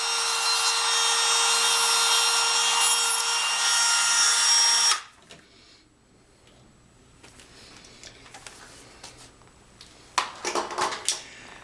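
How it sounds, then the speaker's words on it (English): A Dremel rotary tool grinds rails flat on a model railroad turnout, a loud high whine for about five seconds that then stops, followed by quiet handling and tapping. "now I'm trying to make them a little bit flat with the Dremel"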